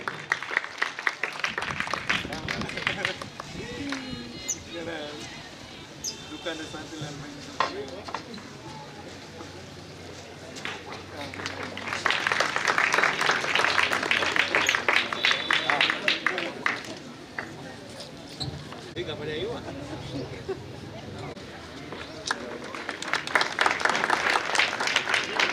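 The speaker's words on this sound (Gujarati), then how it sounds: "આપણે સૌ તાળીઓના ગડગડાટથી એમને વધાવી લેશું." Audience applause at a community ceremony honoring two soldiers rises in loud, sustained swells over a continuous spoken announcement and room murmur, then fades back before swelling again near the end.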